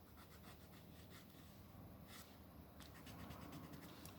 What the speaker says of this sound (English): This is a piece of plastic rubber. I've cut the edges.